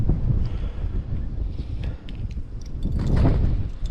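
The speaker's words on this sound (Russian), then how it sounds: "Как я не люблю этот ветер с морозом." Strong gusts of cold wind buffet the microphone on a frozen river in a continuous low roar, with a few faint scrapes and crunches mixed in.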